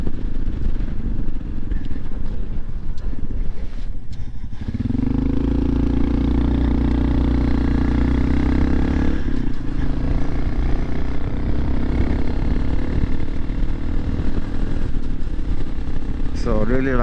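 A Honda CT 125 motorcycle riding along country roads, its engine droning loud and close throughout, with a shift in pitch as it pulls away and steady rumble thereafter, overlaid with wind noise.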